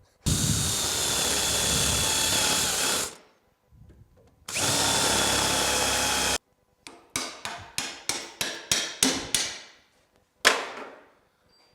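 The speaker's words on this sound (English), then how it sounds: "If you're ever trying to get a rivet out, you're drilling it" A power drill whines in two long bursts, then a rapid series of short trigger pulses, loud and close, ending in one last brief spin, while drilling out a rivet on a Ski-Doo Rev Mod 700 snowmobile.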